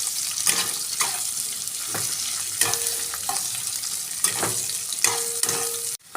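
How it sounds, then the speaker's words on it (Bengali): A bay leaf frying in hot oil with chopped garlic, onion and green chili, giving a steady close hiss broken by scrapes and stirs of a spoon in the pan. "একটা তেজপাতা দিয়ে দেবো। এটা ভালো করে ভাজবো।"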